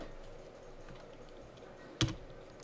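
Soft, quick keystrokes patter on a computer keyboard, then a single louder key clack lands near the end.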